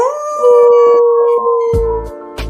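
A wolf howl sound effect rises into a long sustained tonal wail, loud and close, then tapers, with a couple of brief sharp bursts near the end.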